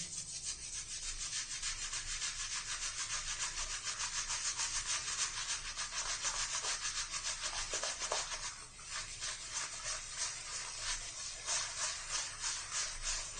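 Synthetic shaving brush swirling and rubbing Truefitt and Hill sandalwood shaving cream, a steady close, loud wet brushing texture with rhythmic strokes that continues alone throughout, briefly slowing toward the end.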